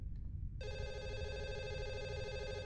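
A telephone in the horror video game Fatal Midnight starts ringing suddenly after a brief quiet moment, a steady electronic trill that holds on over a low rumbling ambience.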